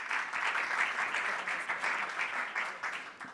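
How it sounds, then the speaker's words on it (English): Conference audience applauding a panel, steady mid-distance clapping that stays fairly quiet and even for a few seconds. "Give them a round of applause."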